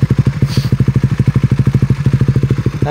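Raider 150 Fi motorcycle idling through an aftermarket Vhenworkz power pipe exhaust, a loud, close, steady burbling pulse of rapid even thumps, clear and alone with no talk.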